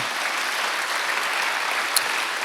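A church congregation at Sunday worship applauds in a steady, dense wash of clapping, even and moderately loud throughout.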